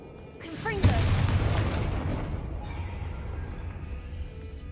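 Confringo blasting spell in Hogwarts Legacy, a sharp cast followed by a booming explosion that rumbles and slowly fades, with a voice speaking over the start.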